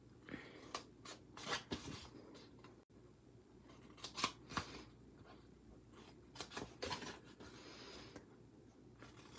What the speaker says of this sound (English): cut it at an angle, and then snip, snip, snip